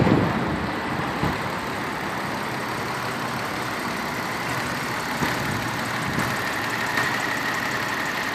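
A 1995 Dodge Stealth RT twin turbo engine idles with the hood open, a steady, even mechanical hum and whir with no talking.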